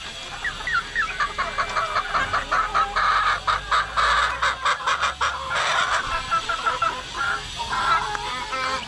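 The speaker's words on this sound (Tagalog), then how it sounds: "kumakain na rin yung mga week old natin, oh" Week-old chicks cheep and cluck busily at close range while pecking wet feed, a dense, overlapping chorus of chirps that swells and dips over the whole stretch.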